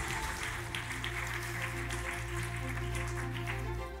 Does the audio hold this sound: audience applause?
yes